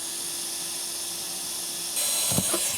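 A drill bores a hole through a boat transom, giving a steady high-pitched whine that shifts as the bit presses through, with a couple of short knocks near the end.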